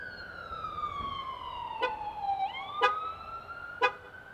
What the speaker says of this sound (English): it just beeps the horn, kind of a chirping sound, and flashes the lights